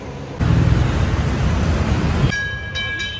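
A Chennai Metro train rumbles loudly and steadily for about two seconds, then drops away to a quieter hum with a thin high whine and a few faint clicks.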